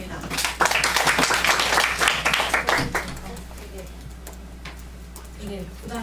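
A conference audience at a Korean digital learning festival claps for a teacher's presentation; the applause is loud at first then thins out, and a voice speaks faintly beneath it.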